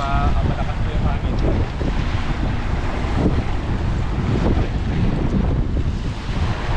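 Strong wind buffets the microphone aboard a small fishing boat at sea, a loud continuous roar mixed with wave wash and engine rumble, with no clear speech.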